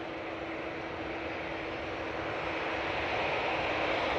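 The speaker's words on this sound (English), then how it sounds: "we do have the Hainan A330 coming in from Beijing." Hainan Airlines Airbus A330 arriving from Beijing and landing at Manchester Airport, a steady distant jet roar that swells slightly louder toward the end, with no talk.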